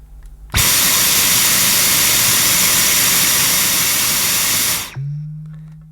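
A Dyson Micro handheld vacuum cleaner runs on its normal setting, a loud steady whoosh that starts abruptly, holds for several seconds, then cuts off and leaves a low hum as the motor winds down.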